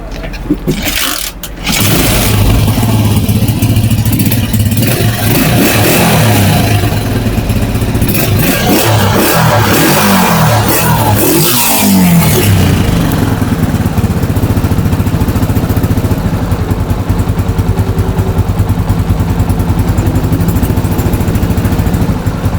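A Honda CG 125 motorcycle engine being tested for an idle speed problem catches after a brief start attempt, then runs continuously and loud at close range with uneven revving throughout.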